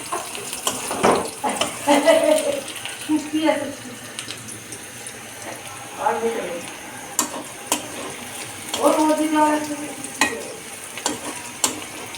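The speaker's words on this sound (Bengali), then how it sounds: "পেঁয়াজ ভেজে নিচ্ছি। তো আমি ফোড়নে দিয়েছিলাম গরম মশলা, গোটা জিরা, শুকনা মরিচ, আর কিছু দিইনি, পেঁয়াজ দিয়েছি।" Onions frying in hot oil tempered with whole garam masala, cumin seeds and dried red chillies, a steady close sizzle with stirring scrapes and clinks over it.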